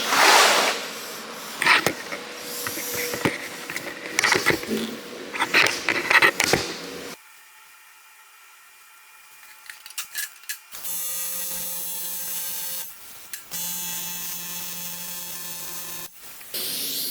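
Arccaptain 200P AC/DC TIG welder running on a greasy old aluminum radiator. A steady electric buzz and hum comes with crackling rubs and scrapes and cuts out abruptly partway, then returns as a tonal whine, close up.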